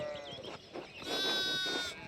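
Sheep in the medieval village of Pentiment give off a couple of wavering bleats, moderately close, over a faint game ambience with no talking.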